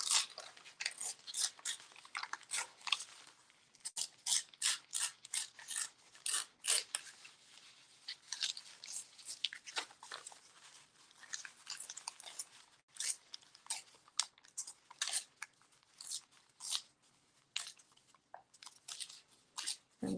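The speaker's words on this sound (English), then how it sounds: "So what if let's rip this one." Gelli print paper torn apart by hand in a quiet room, a run of short crisp ripping bursts coming in quick irregular strokes, close and fairly soft, with no voices.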